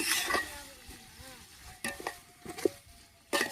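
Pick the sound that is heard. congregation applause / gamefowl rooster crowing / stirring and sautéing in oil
stirring and sautéing in oil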